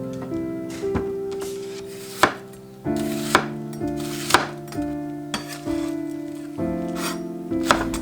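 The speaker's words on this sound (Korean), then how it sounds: "청양고추, 홍고추, 파를 잘 잘라주세요." A knife chops green onions and red and green chili peppers on a cutting board in a hanok kitchen, sharp knocks coming in quick bursts with short pauses in between, close and clear over a soft background tone.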